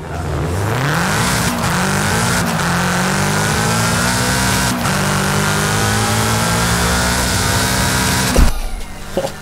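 A Subaru S209 in Forza Horizon 5, a standard engine tuned to 731 horsepower, revs hard and pulls away from the start, its loud engine note climbing through repeated gear shifts, with a brief tire chirp near the end.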